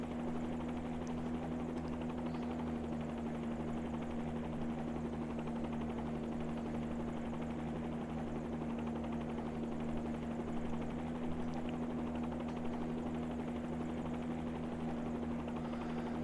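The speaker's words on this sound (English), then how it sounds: "we put the helicopter down at the Aegean hangar" A helicopter sits landed at a hangar at Athens airport with its engine still running, giving a steady, loud, unbroken turbine whine and rotor hum throughout, with no talking.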